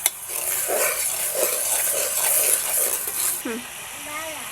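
Chicken is stirred in a pot with sour yogurt and fried biryani masala, a close scraping and sizzling with spoon-on-metal clatter, and a brief high squeak near the end.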